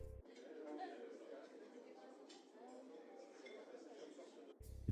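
Ambient crowd chatter used as quiet texture in a hip-hop track intro: a steady, low murmur of many voices with occasional clinks of glass, filtered thin, running continuously before cutting off near the end.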